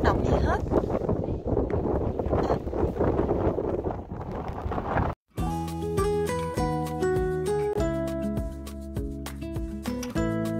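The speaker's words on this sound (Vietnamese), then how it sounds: "Cái này là gió đó nha cả nhà." Wind gusts across sand dunes in De Hoge Veluwe National Park in the Netherlands, a rough, blustery roar buffeting the microphone for about five seconds before cutting abruptly to music.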